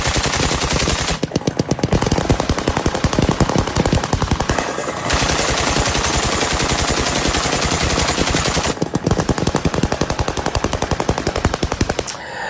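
Sustained automatic gunfire in Suwayda, southern Syria, during fighting: loud rapid bursts of shots in long strings with brief gaps, heard without speech.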